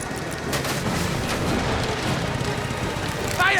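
Gunfire in a dense firefight in the video game Mafia: The Old Country, loud and continuous with layered shots and explosive booms, mixed with shouting voices.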